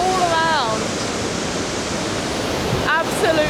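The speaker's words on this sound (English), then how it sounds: "the force of this waterfall, there's nothing like it" Roaring waterfall at Iguazu Falls, a loud, constant wall of rushing water close by, with faint bird chirps over the top.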